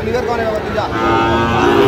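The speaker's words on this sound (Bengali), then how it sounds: "শাহিওয়ালের ষাঁড়" A Sahiwal bull moos with a low, drawn-out bellow that swells toward the end, while people murmur and talk in the background at a cattle market.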